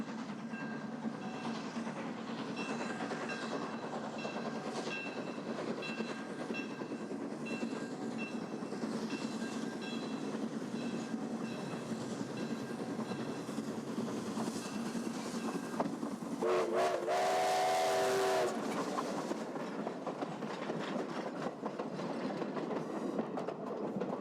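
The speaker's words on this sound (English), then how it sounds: "pull that train with a vintage steam locomotive" A vintage steam locomotive hauls a train on the Niles Canyon Railway, a continuous rolling rumble with rhythmic rail clatter and a whistle blast rising briefly partway through.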